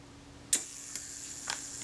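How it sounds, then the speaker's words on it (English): The delay-action self-timer of a Kodak Retina IIIS camera runs down with a few sharp, quiet mechanical ticks spaced about half a second apart, close by against a soft steady hiss. "The delay action runs down."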